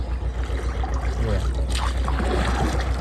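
A wooden rowboat on a river makes water sounds as it is rowed: steady lapping and trickling against the hull, with a brief louder splash midway, continuous and close.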